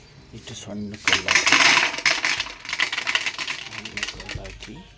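Small pebbles poured by the handful into a plastic water can, rattling and clattering against the walls in a dense burst of clicks, loud and close, tapering off toward the end.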